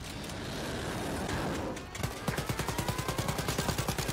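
Rapid automatic gunfire in Wolfenstein: Youngblood: a muffled rumble gives way to a steady, evenly spaced string of about a dozen loud, sharp shots in quick succession.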